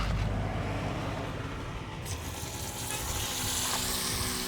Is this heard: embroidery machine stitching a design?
no